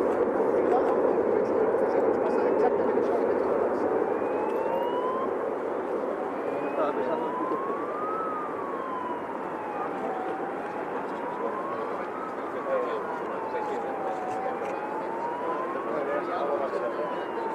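Emergency vehicle sirens wail in a slow rising and falling cycle as police and ambulances approach an Air Canada plane after an emergency landing at Barajas airport, set against steady engine and airport rumble, with someone talking over them.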